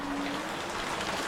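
Heavy monsoon rain pours down outside a house, a dense, steady hiss of water with no voices over it.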